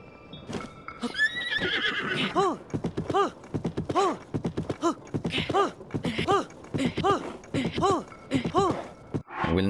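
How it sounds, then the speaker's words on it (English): Horse in Zelda: Tears of the Kingdom gives a rapid series of repeated neighs and whinnies with clip-clopping hooves, close and loud, over a brief electronic game sound at the start. "The hell is that horse? It's like glowing in the dark."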